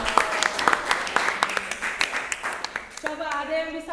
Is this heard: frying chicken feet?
no